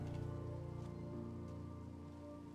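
Rain falls steadily in the video game Minecraft, a soft continuous patter layered over gentle background music, with no talking.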